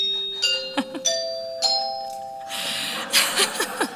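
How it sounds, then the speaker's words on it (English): Chimes struck one after another, ringing tones that sustain and overlap, building to a brighter cluster of notes near the end, played alone without talk. "you'll hear Daniel playing the lovely sounds of the chimes."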